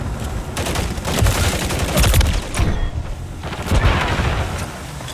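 Sustained multiplayer gunfire in Call of Duty: Modern Warfare III (2023), dense overlapping automatic bursts and booming shots rolling continuously through a loud battle.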